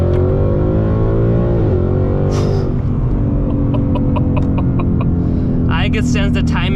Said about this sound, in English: We're in second gear now, traction control on,